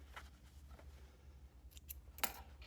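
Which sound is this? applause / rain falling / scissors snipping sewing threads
scissors snipping sewing threads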